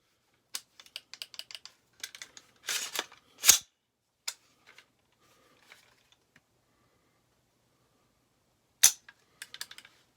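An AR-15 rifle trigger is dry-fired in a quiet room, sharp mechanical clicks and small rattles scattered across the stretch, with a couple of louder snaps.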